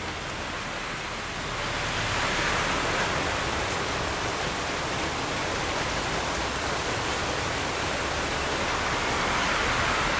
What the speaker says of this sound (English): it is pouring at the moment